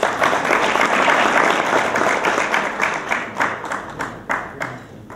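Audience applause at a Lions club dinner with the Templars: a dense, loud burst of clapping from a crowd that thins into scattered individual claps and tapers off toward the end.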